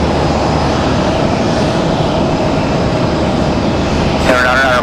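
An Airbus A321XLR airliner taxiing at Raleigh-Durham airport gives a steady, loud engine rumble and broadband roar that stays constant throughout, with a brief higher whine near the end.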